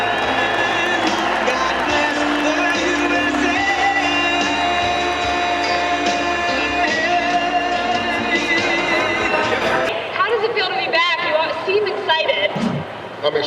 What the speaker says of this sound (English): let's give a round of applause to Operation Homefront